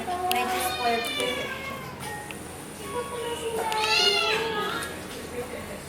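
A cat in a cat cafe meows repeatedly, several drawn-out, rising and falling cries at close range, while people talk nearby.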